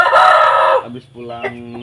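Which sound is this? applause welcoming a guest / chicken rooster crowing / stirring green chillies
chicken rooster crowing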